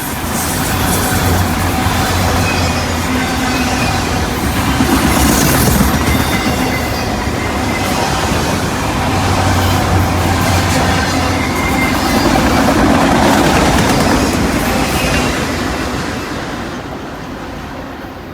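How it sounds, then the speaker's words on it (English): Norfolk Southern freight train led by two BNSF locomotives, an ES44C4 and a C44-9W, rolling past close and loud on the Valdosta District in Georgia, a continuous rumble with clickety-clack of wheels that swells and fades slightly at the end. "This train has two foreign-power BNSF locomotives."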